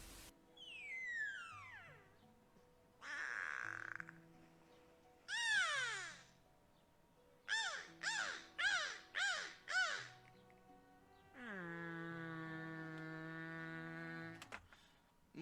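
Beluga whale calls ring out alone as a series of high whistles, descending chirps and quick rising-falling squeaks, ending in a long, steady, horn-like tone.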